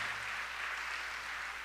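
Congregation applauding together in a church service, honoring the mothers among them; a steady, continuous wash of clapping from many hands throughout, with no speech over it.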